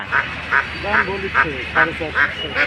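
Domestic ducks quack repeatedly in a steady, rhythmic series of loud nasal calls, close by at a village market in Mahadevpur, Naogaon, with a few voices talking faintly underneath.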